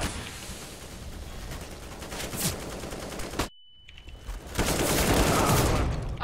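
Rapid bursts of gunfire in Counter-Strike, a dense crackling volley that cuts off abruptly into a brief near-silence with a thin tone, then resumes as a sustained loud roar of shots and a grenade blast.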